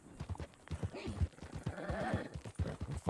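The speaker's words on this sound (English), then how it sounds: "Don't fucking neigh at me." A horse whinnies with a rising, wavering call amid clopping hooves and a nearby human voice.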